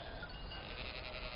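Sheep bleating in a pastoral field setting, a soft continuous wavering bleat that sounds somewhat distant and faint, with no talk over it.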